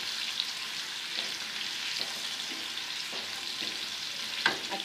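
Garlic, ginger and onion fry in a pan over a medium flame, giving a steady close sizzle with occasional soft stirring clicks throughout, no voices.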